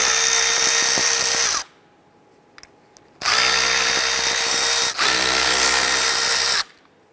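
A cordless power drill spins out T30 Torx screws on a 2005-2010 Chrysler 300 front window regulator, loud whirring in two long bursts of about a second and a half each, separated by a quiet pause with faint clicks.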